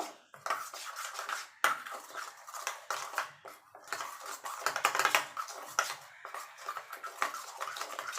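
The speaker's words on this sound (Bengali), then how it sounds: "চিনি দিয়ে দেবো নুন দিয়ে এগুলো ভালো করে ফেটিয়ে নেব" A bowl of sugar and salt mixture whisked briskly, a fast, close clatter of metal against the bowl that repeats in quick bursts with brief pauses, loud and with no voices.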